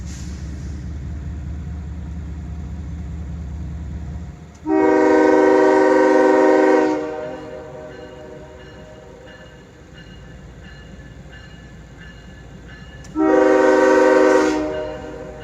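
A CSX freight train sounds its horn at a crossing: two long, loud blasts stand out over the steady rumble and roar of the locomotives, with the engines continuing between them.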